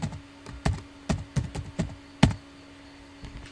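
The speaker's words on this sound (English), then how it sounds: "we need to type the name of the domain, which is Contoso, then a backslash, then the name of the user logging on, and the password" A computer keyboard being typed on in short, irregular bursts of distinct keystrokes as a domain name and password are entered at a login, with a few louder taps standing out near the middle and a steady faint hum underneath.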